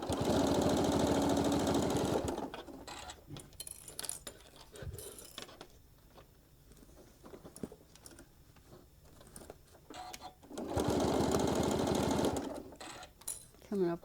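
Sewing machine stitches a travel case for a mini iron in two loud, steady bursts at the start and again near the end, with quieter handling sounds and soft speech in between.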